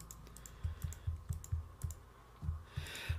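Computer keyboard keys click in a rapid, fairly steady rhythm during Minecraft play, close and moderately loud, with a slight hissy swell at the end and no talking.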